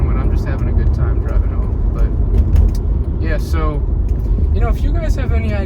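Car driving home on the road, a steady low engine and road rumble from inside the cabin that continues throughout, with a person talking over it.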